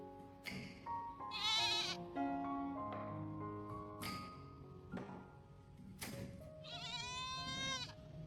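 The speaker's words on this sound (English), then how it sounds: "he needed to go out to the garden to check on Baby the goat in this rainy weather" Several loud goat bleats ring out in rainy weather in a garden, wavering and nasal, with quieter gaps between calls and some background noise underneath.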